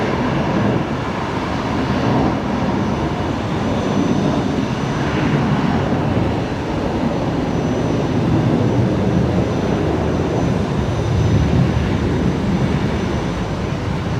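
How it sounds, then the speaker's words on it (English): A Jetstar passenger jet at Brisbane Airport produces a steady, loud broadband engine roar that holds throughout with little change, heard from a distance outdoors. "Jetstar 823 heading down to Sydney."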